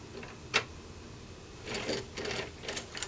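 A Hornby Class 66 model locomotive in Freightliner G&W livery runs on its track with bumpy, out-of-round wheels, giving a faint, quiet whir broken by irregular light clicks and ticks.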